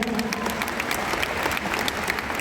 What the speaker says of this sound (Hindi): अजय सर, दृश्यम 2 के लिए थोड़ी तालियां हो जाए